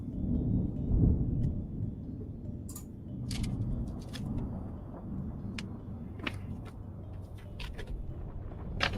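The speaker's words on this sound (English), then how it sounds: "There is a sound of storm winds and crashing waves." Storm winds roar over a dark sea as waves crash against a battered ship, a steady low rumble broken by scattered sharp cracks, continuous and without speech.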